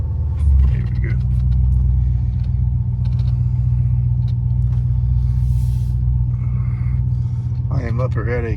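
A 1980 Porsche 928 is driven on a test drive, its engine giving a steady, low rumble heard from inside the car, with a voice briefly audible toward the end.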